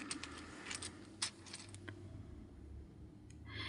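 Animal wisdom cards or tiles being shuffled by hand, giving quiet, scattered clicks and rattles of small pieces knocking together in a few faint bursts over low room hum.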